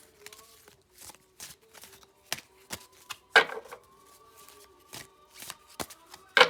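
Oracle cards being shuffled by hand, a series of short crisp riffling slaps and taps at irregular intervals, close and fairly quiet with a faint tone humming underneath.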